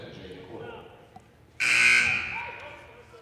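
A loud, harsh electronic buzzer sounds abruptly inside a gym at a high school girls' basketball game during a free throw and holds for over a second before fading, with crowd murmur and a commentator's voice underneath.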